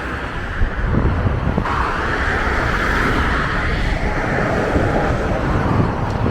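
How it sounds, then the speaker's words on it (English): A refrigerated truck passes on a busy motorway, its steady broad road roar and wind rush holding constant throughout with no voices. "Yeah, fridge truck."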